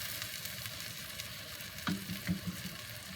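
Eggs and vegetables fry in a pan for a breakfast burrito, with a constant soft sizzle and a few quiet scrapes and knocks of stirring near the middle, alone with no talk.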